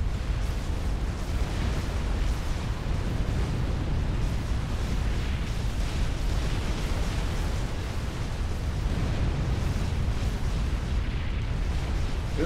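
Continuous barrage of loud, overlapping explosions and booming blasts from Zaku units in the real-time strategy game Forged Alliance Forever, during a 6v6 custom match on the Adaptive Millennium map, dense and rumbling throughout with no talk.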